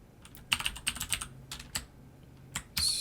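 Quick bursts of key taps on a computer keyboard while entering a Linux command on Ubuntu, close and crisp, with pauses between short runs and a louder clack at the end.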